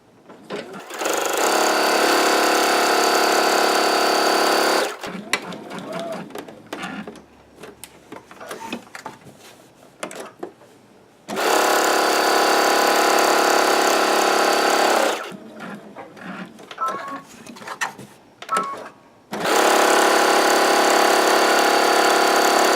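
A sewing machine runs a stitch along the edge of a fabric cube in three loud, steady bursts, separated by quieter stretches of handling and clicks.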